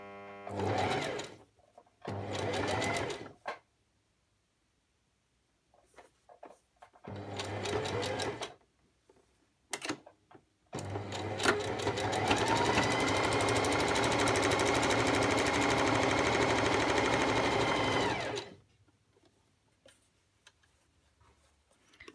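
Sewing machine finishing a wrist band on a sleeve, running in short bursts at first and then one long steady stretch of fast close stitching, with quiet pauses between runs.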